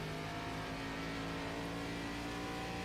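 A race car engine held at full throttle in the iRacing sim, a steady droning roar with no shifts or lifts, moderately loud and continuous throughout.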